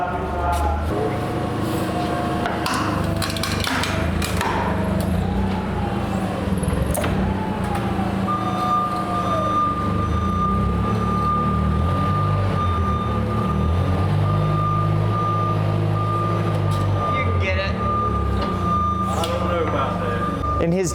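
A truck reversing a trailer into a lumber yard building, its engine rumbling loudly while a steady high reversing beep runs through the second half, with people talking over it.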